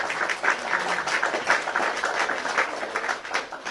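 An outdoor crowd claps and cheers in acclaim for President Laurent Gbagbo, with uneven bursts of applause rising and falling in rhythmic waves and voices mixed in.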